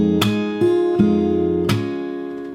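An acoustic guitar plays a slow fingerstyle passage from a song, with a few clearly plucked notes and chords that ring out and fade.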